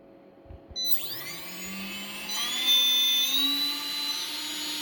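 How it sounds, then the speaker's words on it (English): An electric motor driven by a freshly calibrated ESC spins up from silence to a rising whine that climbs in pitch as the duty cycle increases, then holds a steady high-pitched electric hum, close and alone. "I may increase my duty cycle to power my motor like that."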